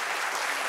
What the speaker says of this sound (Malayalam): എല്ലാവർക്കും ചേർത്ത് ഗംഭീരമായ ഒരു കൈയടി.